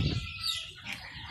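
Turkeys and chickens on a farm with ducks, quail and pigeons, clucking and calling in a short, busy burst of overlapping fowl sounds close by, with some wing flapping.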